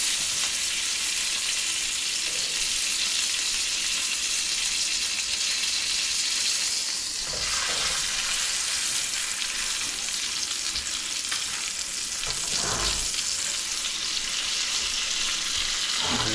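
Sweet potatoes cook in a hot pan with a loud, continuous sizzle, broken by a couple of brief stirring scrapes.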